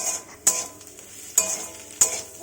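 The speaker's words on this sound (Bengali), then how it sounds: "এগ চাউমিন বানিয়ে নিচ্ছি" Egg chow mein being stir-fried with vegetables and onion in a home kitchen, a steady sizzle broken by three sharp scraping stirs of the utensil against the pan, close and alone with no talk.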